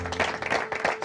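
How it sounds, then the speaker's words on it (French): A short burst of clapping from a small group at a concierge association event, fairly soft and scattered, with uneven hand claps over about a second. "Un applaudissement."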